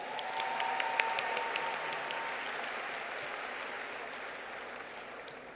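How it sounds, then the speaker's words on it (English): Steady applause from a sizable crowd at a university spring commencement, dense and continuous throughout, with a few sharper claps standing out near the start and end. "Let's give these students a round of applause."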